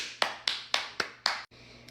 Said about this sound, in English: If you don't clap when you're eating this.